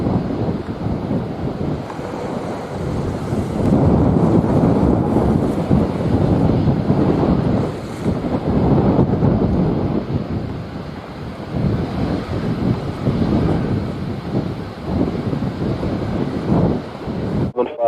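Strong wind buffets a microphone at Montego Bay airport in Jamaica, a loud, continuous rumbling roar that swells and eases throughout.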